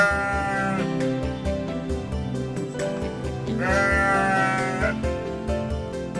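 Sheep bleat over a bed of loud, steady music with harmonic tones, the animal calls blending into the musical background rather than standing alone.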